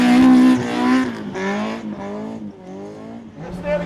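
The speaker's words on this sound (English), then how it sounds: "Drifting is so goddamn fun in a lightweight car." Lightweight Toyota AE86 drifting on a rain-soaked track with standing water and hand-grooved tires, engine revving hard and wavering loudly while tires squeal and hiss through the slide, close and continuous.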